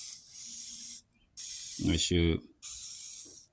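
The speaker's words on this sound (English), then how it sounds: "So gonna spray a little WD-40 in there." WD-40 sprayed into the cylinder of a four-stroke dirtbike engine being honed, three loud close hissing bursts separated by short pauses, with a brief spoken phrase between them.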